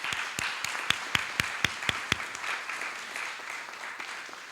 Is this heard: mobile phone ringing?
no